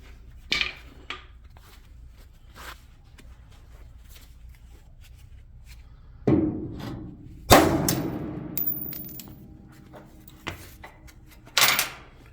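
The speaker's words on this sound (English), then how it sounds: "So yeah, it's about to get beat with a hammer." Hammer beating an old steel tube being made into a car crossmember, with a handful of sharp, loud metallic strikes spaced irregularly among quieter knocks and shuffling.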